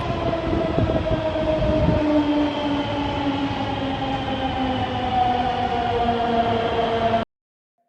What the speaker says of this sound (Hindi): फाइनली हम मेट्रो में बैठ गए हैं और अब हम गाजियाबाद की ओर जा रहे हैं